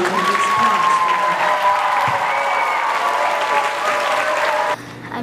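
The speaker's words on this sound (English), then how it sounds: "So a huge round of applause." Loud elementary school audience applauding a spelling bee student, sustained dense clapping with some cheering and whistle-like tones over it, cutting off abruptly near the end.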